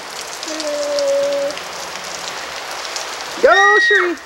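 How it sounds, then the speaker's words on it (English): Heavy rain falls and splashes outdoors under a tree as a steady broadband wash, with a brief whistle-like tone early on and a short burst of voice near the end. "And this is Danny's way of enjoying the rain."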